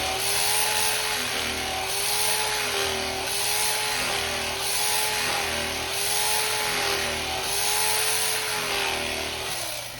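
Electric knife slicing through braised beef brisket, a steady buzzing motor hum with gently wavering pitch, continuous and fairly loud throughout with no talking.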